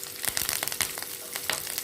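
Curry leaves and dried Kashmiri chillies sauté in hot oil in a pan, crackling and sizzling in quick bursts close by with no voices.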